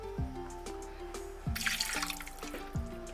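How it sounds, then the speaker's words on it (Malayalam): Water pours in splashy bursts into a cooking pot of kappa mathi puzhukku, a tapioca and sardine dish, with a steady tonal hum underneath and a louder gush midway. "വെള്ളം ഇല്ല എന്നുണ്ടെങ്കിൽ നമ്മളിതുപോലെ കുറച്ച് ഒഴിച്ചു കൊടുക്കണം"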